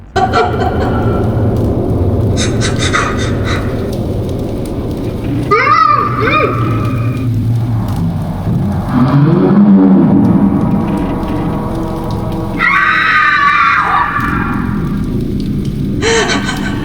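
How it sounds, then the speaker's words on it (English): A child's eerie scream drifts through the ambient soundscape of the video game Half-Life 2, rising in a few short, distant, wavering cries over a dense, continuous background rumble and wash of noise. "even a child's scream, which is the most disturbing one of the bunch"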